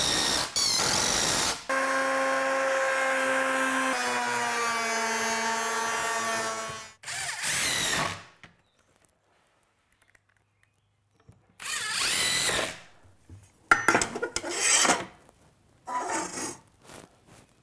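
Power drill driving 2.5-inch screws into a wooden miter saw shelf: a long whining run that drops in pitch as the screw seats, then several shorter bursts after a pause, close and alone.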